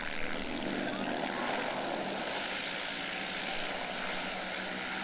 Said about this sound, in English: P-51, the Mustang, beautiful plane.